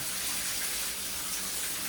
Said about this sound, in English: comes out the rain head shower.